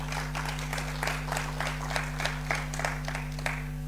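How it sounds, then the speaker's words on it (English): An audience in a waterfront venue gives a brief round of applause at an oil and gas talk, with light clapping pulsing in bursts over a steady electrical hum. "A round of applause, please."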